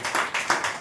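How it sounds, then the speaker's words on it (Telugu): Congregation at a Telugu church service clapping together in a brief, dense burst with a few louder peaks. "నమ్మిన వాళ్ళందరం చప్పట్లు పెడతాం ఒకసారి"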